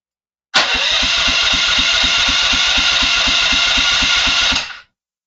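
A car engine cranking over in a home garage, a loud, rapid, even chugging of the starter that runs for about four seconds without catching, then cuts off into silence.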